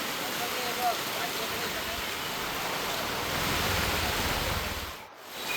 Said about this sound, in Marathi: मात्र तिथे आता पावसाने तो अखेर जोर घेतलेला आहे।